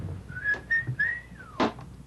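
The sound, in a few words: person whistling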